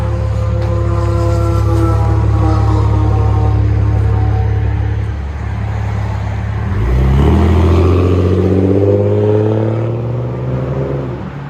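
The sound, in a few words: Jeep Grand Cherokee 4.0L I6 straight pipe exhaust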